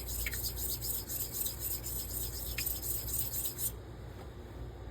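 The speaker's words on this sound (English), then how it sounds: "I'm gonna just go through how I normally set a bevel." A straight razor is drawn across an Ardennes coticule hone while a bevel is set, giving a steady close-up scraping rasp in repeated strokes, loud and continuous for about four seconds before the sound drops away.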